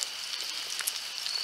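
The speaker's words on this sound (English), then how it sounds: "It's finally raining." Steady rain falling outdoors in a front yard, a continuous soft hiss of drops on surfaces with no talking.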